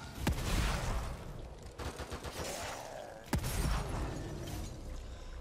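Gunshots in The Evil Within 2, sharp loud cracks near the start and again midway, each followed by ringing reverberation over a dense rumbling ambient game soundscape.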